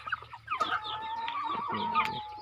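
Crossbred chickens from a Thai hen and a Leghorn rooster cluck steadily at close range in a cramped farm pen, with several overlapping birds and no talking.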